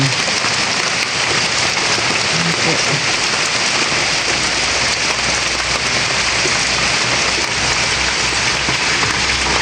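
Steady, dense rain patters on a surface throughout, a constant close hiss with scattered drops and faint voices underneath, in the Philippines.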